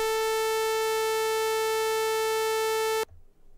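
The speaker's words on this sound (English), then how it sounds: "Sawtooth." A bright, buzzy synthesizer sawtooth oscillator tone sustains at a fixed pitch for about three seconds before stopping sharply, leaving quiet.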